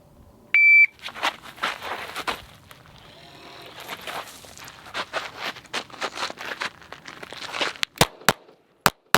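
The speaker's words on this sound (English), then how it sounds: "Start the buzzer, here we go." A single short electronic shot timer start beep rings out, followed by a rapid flurry of sharp, loud gunshots and a few final isolated shots on a shooting stage.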